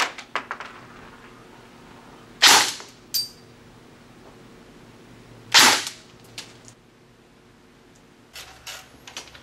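Airsoft guns, an ICS SIG 552 and an M4-style rifle, fire BBs through a chronograph indoors: two sharp, loud bursts spaced a few seconds apart, with fainter clicks and handling noises between.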